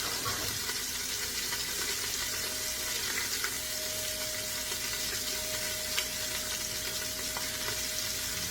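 Hands are washed under a running kitchen tap, a steady, even rush of water that holds for the whole stretch with only a faint clink now and then.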